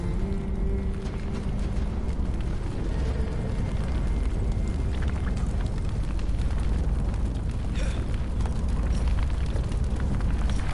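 A sustained roaring explosion in Dragon Age: The Veilguard, loud and dense throughout, rumbling with crackling debris and fire and no clear pauses.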